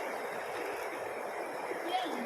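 A river flowing steadily as a broadband wash while people do laundry on its bank, with voices talking faintly underneath the constant water noise.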